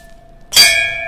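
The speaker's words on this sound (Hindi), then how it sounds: "एक मस्त घंटी है बाबा।" A bell is struck once after a faint steady tone, giving a bright metallic clang that rings on with sustained tones and slowly fades, close and loud.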